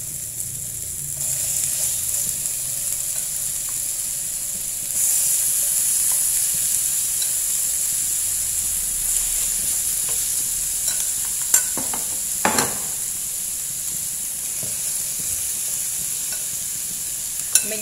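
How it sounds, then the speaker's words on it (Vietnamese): Marinated chicken sizzling as it roasts in a hot pan on the stove over low heat, with a steady bright frying hiss that swells partway through and brief crackles and pops toward the end. "Bây giờ mình sẽ cho lên chảo là mình có thể nướng được ạ."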